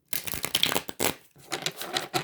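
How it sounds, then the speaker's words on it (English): Tarot cards are shuffled by hand in quick, crisp riffling bursts with a brief pause in the middle, close and clear with no talking. "Let's shuffle it two more times, and then we're gonna see what pops out for you"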